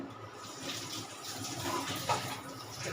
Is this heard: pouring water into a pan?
yes